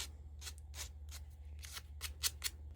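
Wire cutters trim a pointy foam heart for a craft shelf sitter, giving soft, quiet snips and rustles in an irregular series over a low steady hum.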